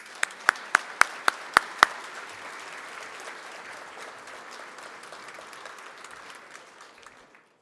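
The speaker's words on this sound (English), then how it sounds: "Let's give them a round of applause." An audience at a U.S. Hockey Hall of Fame induction celebration breaks into applause, opening with several sharp, loud individual claps before settling into a steady crowd clapping that gradually fades out over several seconds.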